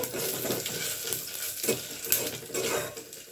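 Fenugreek and coriander seeds dry-roasting in a pan, crackling and sizzling while a spoon stirs and scrapes against the metal in quick, uneven strokes, close and fairly loud.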